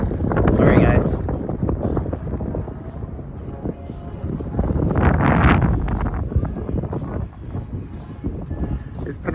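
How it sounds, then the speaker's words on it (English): Strong wind buffets an unshielded phone microphone outdoors on the Las Vegas Strip, with heavy low rumbling gusts surging and easing while a person talks through it. "Oh, it's so windy though."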